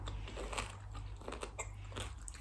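Close, crisp biting and chewing of a crunchy salad during a mukbang-style meal, a few quiet crunches in a row with no talking.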